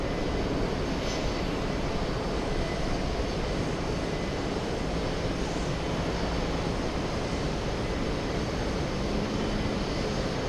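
An All Nippon airliner at JFK airport gives off a steady, broad jet-engine roar at a distance, constant and unbroken throughout, with no talking.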